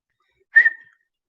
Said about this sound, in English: so I had to send him a whistle.